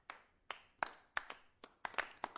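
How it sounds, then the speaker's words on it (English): Sparse audience clapping: a handful of separate, fairly faint claps spaced irregularly, some close together, with quiet gaps between them. "not many claps there, Frank"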